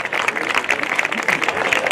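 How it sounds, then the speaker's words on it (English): Dense applause from an audience at a high school semester awards ceremony, many hands clapping continuously and fairly loudly throughout, with some voices mixed in. "Everyone give a round of applause."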